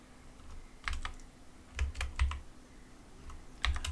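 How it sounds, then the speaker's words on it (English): Keys on a computer keyboard are tapped in short, irregular clusters of quick clicks with pauses between, fairly close and quiet against a faint steady hum. "typing our desired sequence."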